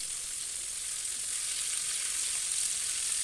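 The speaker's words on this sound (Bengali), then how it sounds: "তারপরে মিডিয়াম লো ফ্লেমে এই চিকেনগুলো ফ্রাই হবে" Coated chicken drumsticks fry in oil over a medium-low flame, giving a steady, dense sizzle that holds evenly from start to finish with no other sounds.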